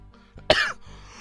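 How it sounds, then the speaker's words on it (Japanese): A single sharp cough, close and abrupt, followed by faint quiet background, during a video game. "咳も出るし"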